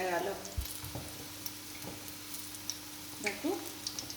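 Capsicum cubes and onion fry in a pan with a soft sizzle, broken by several stirring knocks and scrapes. A voice is briefly heard in the background.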